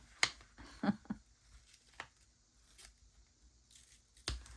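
Paper being ripped by hand for a collage, heard as a few sharp, brief tearing and crinkling bursts spaced across a quiet room, close but fairly soft.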